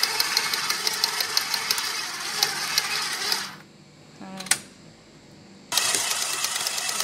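Kitchen robot food processor running, motor whirring loudly and steadily, cutting out into near silence with a brief clatter, then starting again at full speed.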